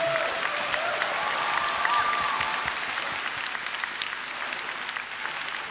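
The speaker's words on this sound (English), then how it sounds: "Please give a massive round of applause to RJ Mitte." A comic convention crowd applauds RJ Mitte at the close of his Breaking Bad panel in London, a loud, dense burst of clapping that tapers gradually, with a brief whistle-like tone early on.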